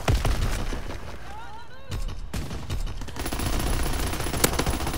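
Rapid bursts of automatic gunfire and shots crackle in a WW2 video game, loud and dense throughout with short pauses, while a voice talks over the action.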